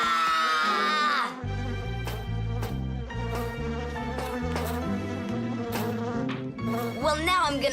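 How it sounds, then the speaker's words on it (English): A cartoon bee buzzes in a high, wavering drone, then music with a bouncing melody takes over, with brief shrill squeals near the end. "Bees don't bite, by the way. They sting ya."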